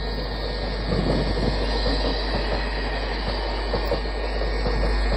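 Train rolling past a stationary train at a station on the way to Prayagraj, a loud continuous rumble with faint squealing of wheels, steady throughout.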